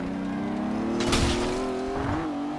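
A BMW M3 engine in Forza Horizon 2 holds a steady, droning tone that rises slightly and then dips near the end, with a brief burst of tire or road noise partway through.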